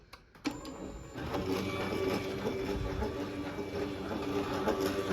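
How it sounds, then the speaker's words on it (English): Steady mechanical grinding and rattling of a Genie 1024 garage door opener trolley rubbing along an angle iron rail, continuous and fairly close after a brief click at the start. "It does make a little bit of rubbing noise on the angle iron."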